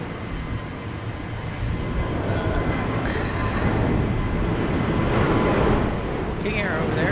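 A King Air plane's engine roars loud and steady at Phoenix Sky Harbor airport, a broad continuous drone that swells slightly and holds for several seconds, with a few faint higher whines above it.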